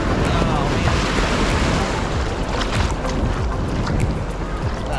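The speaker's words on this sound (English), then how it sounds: "where the waves are breaking." Ocean waves break on Karon Beach in Phuket, a loud, continuous wash of surf and rushing water that fills the whole stretch without pause.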